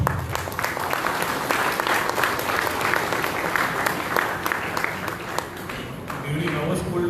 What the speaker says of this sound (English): During our school days, the claps were louder.